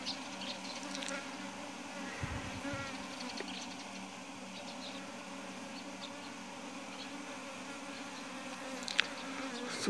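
A dense, steady buzzing of a swarm of Korean native honeybees close by during a first swarm capture, droning continuously for the whole stretch with no voices.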